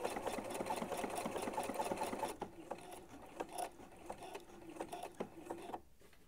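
A sewing machine stitches the end of a buttonhole on a steampunk coat with a quick, even mechanical whirr, then slows into separate clicks and thumps before stopping.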